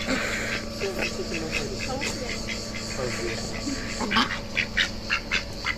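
An angry goose honks repeatedly in loud, agitated bursts, growing harsher toward the end, with people talking in the background.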